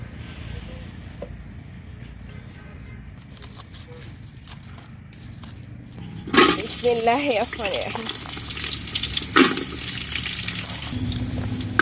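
Green chilies, shrimp, onion and garlic drop into hot oil in a home kitchen pot, setting off a loud, continuous sizzle that bursts in suddenly and keeps frying steadily after a quieter stretch.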